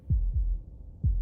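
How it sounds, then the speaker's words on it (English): A slow heartbeat thuds low and soft, a double beat followed by a single pulse a second later, with nothing else heard. "That was the sound of a heartbeat,"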